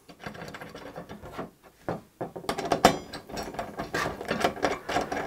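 A longer screw driven by hand through a full-motion TV wall mount bracket into a Sony specialty bolt, giving close metallic clicks and ratcheting ticks in uneven bursts, pausing briefly, then busier clattering turns.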